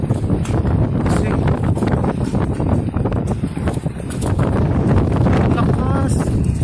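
Strong wind during a sandstorm in Riyadh, Saudi Arabia, roars steadily and loudly into the microphone, a dense, continuous buffeting that barely lets up.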